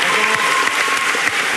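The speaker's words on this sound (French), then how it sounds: "Tout le monde applaudit pour accueillir le directeur de l'école, Richard Descoings," Students in a school lecture hall applaud to welcome the school's director before his welcome speech, a loud, even wash of clapping that carries on steadily without a break.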